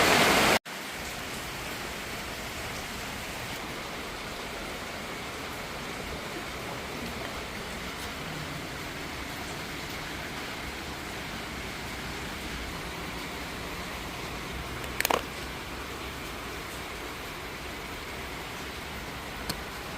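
Steady rain falls at a metal-clad construction site, a soft continuous hiss throughout, with a brief sharp knock near the start and a faint short clack later on.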